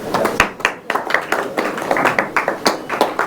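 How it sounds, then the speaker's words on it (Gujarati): Applause from a ceremony audience honoring a guest with a shawl, a brisk burst of close hand claps in an uneven, dense patter, without speech. "જોરદાર તાળીઓથી"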